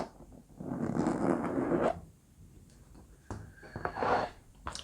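Box wrapped in vinyl being opened to reveal a handmade wand: close, crinkly scraping and rustling in two main bursts separated by a quieter pause, with smaller scratchy handling sounds between.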